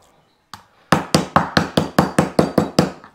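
Thin beef slices for bistek are pounded to tenderize them, one tap followed by a steady series of about ten loud, evenly spaced thuds close by.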